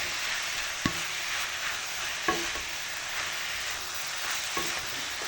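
Shredded cabbage sizzles steadily in a frying pan, a constant close hiss broken by three soft scraping knocks as it is stirred.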